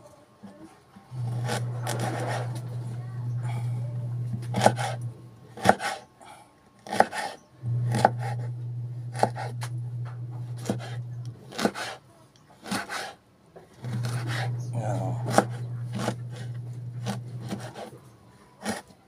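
Ginger sliced thinly with a knife on a board, rapid rasping cuts in short bursts, separated by three sustained low hums and occasional sharp knocks, close and fairly clear.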